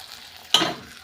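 Village-style masala sautéing in a pan for a vegetable rassa, a single sudden scrape and sizzle burst that quickly fades, close and brief after near silence.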